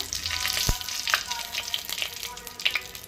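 Bay leaf fries in hot oil at the start of a masala, a steady close sizzle with crackling pops and a stirring scrape, no speech.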